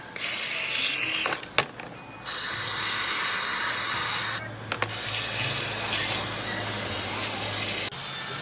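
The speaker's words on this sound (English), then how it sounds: "getting the shaft perfectly soaked into with the cleaner" Aerosol cleaner hisses in two long, close bursts onto the EGR valve shaft of a Mazdaspeed 3, separated by brief clicks and rattles of the can and parts being handled.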